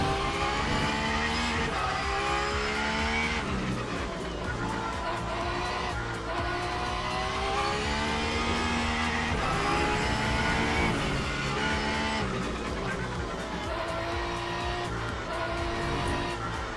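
Porsche race car engine bouncing off the red line in Le Mans Ultimate, a loud, continuous high-revving whine with repeated gear shifts and rev swings, held close throughout.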